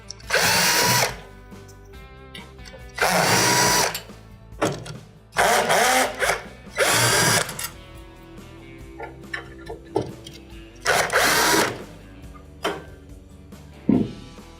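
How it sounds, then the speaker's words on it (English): A power drill backs screws out of a KitchenAid microwave, giving several loud, whining bursts of about a second each, separated by quieter handling clatter. "So we're going to now remove the screws"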